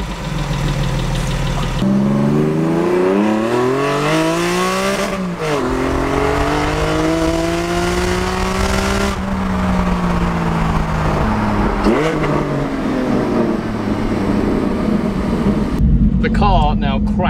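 A Porsche 718 GT4 fitted with Cargraphic headers and an Akrapovic exhaust revs repeatedly, loud and close, its engine pitch sweeping up and falling back several times with sharp transitions between pulls.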